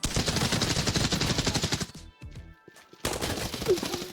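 Rapid automatic gunfire in the video game Arena Breakout Infinite bursts loud and close for about two seconds, pauses with a few scattered sounds, then resumes with another sustained volley.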